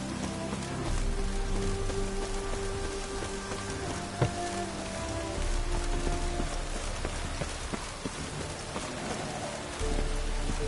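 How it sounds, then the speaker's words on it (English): Steady rain from the Witcher 3 video game, a continuous hiss of drops falling on surfaces that holds for the whole stretch, with a few faint thuds and clip-clop sounds underneath. "Looks like rain."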